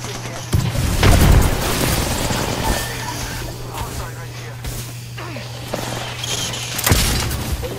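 Apex Legends gunfire and explosions thump and boom in a loud, dense battle mix, with heavy low impacts near the start and end, while players talk urgently over the chaos.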